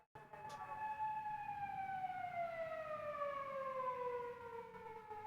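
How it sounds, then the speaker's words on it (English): An ambulance siren in Japan wails steadily at close range, its long tone sliding slowly downward in pitch as it passes and holding strong for several seconds. "it's the ambulance"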